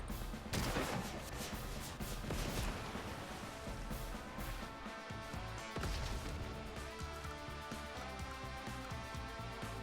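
In the turn-based strategy game Advance Wars, artillery and gunfire rattle in a dense burst of repeated shots and crashes over game music, loud and busy throughout with a brief dip midway.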